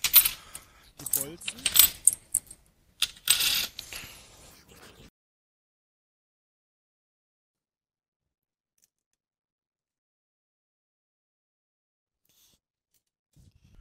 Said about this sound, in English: Now we take the washer again and place it on the bolts, and then screw them tight again with the wing nut.